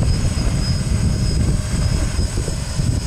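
Loud, close drone propeller whine with a steady high-pitched tone over rumbling strong wind, continuous throughout, from a maiden flight with unbalanced props.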